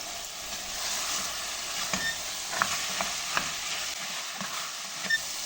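Chickpeas sauté in a pan with tomato paste, giving a steady soft sizzle with occasional light scrapes and taps of a spoon as they are stirred.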